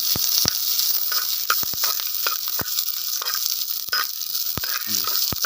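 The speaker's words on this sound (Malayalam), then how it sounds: "എണ്ണ ഒഴിച്ചു കൊടുത്തിട്ടുണ്ട് ഉണക്കമുളക് ഇട്ടിട്ടുണ്ട് പച്ചമുളക് ഇട്ടിട്ടുണ്ട് വെളുത്തുള്ളി ഇട്ടിട്ടുണ്ട് അപ്പോൾ ഇതെല്ലാം കൂടി ഒന്ന് നമുക്ക് വയറ്റിയെടുക്കണം" Dried red chilies, green chilies and garlic sizzle loudly in hot oil, a crackling hiss broken by sharp pops and spits scattered through the whole stretch, with nobody talking.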